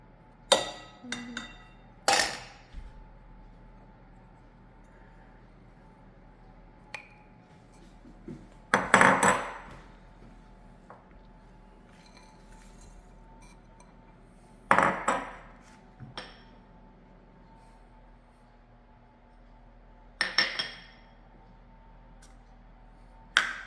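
Pumpkin baklava filling ingredients tipped into a big bowl in a kitchen, heard as scattered clinks and clatters of glass, dishes and utensils, several sharp bursts spread apart with quiet room tone between.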